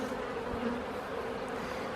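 Honeybees buzzing steadily at an open hive during a spring inspection, a dense, even drone from many insects close by with no talking.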